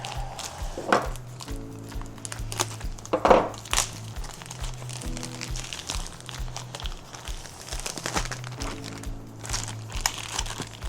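A product package, a blanket in plastic wrapping, is cut open: crinkling plastic and a few sharp crunchy cuts and rustles, close and fairly loud, with no talk.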